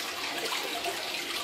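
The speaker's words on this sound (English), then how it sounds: "Well, let's turn the water down a little." Water spraying steadily from a bidet, a continuous close hiss of spray with no pauses or voices.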